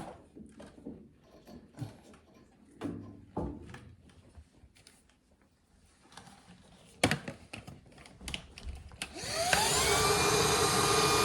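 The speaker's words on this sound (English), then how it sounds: "then use the vacuum to vacuum it" Scattered clicks, taps and clunks of handling a gas fireplace pilot assembly, then a vacuum cleaner starts up and roars steadily, loud and close, through the final seconds.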